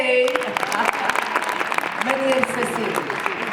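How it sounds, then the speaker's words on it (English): Studio audience applause for a guest on a live talk show, a short burst of clapping from a crowd with talk and voices over it. "round of applause for Jay."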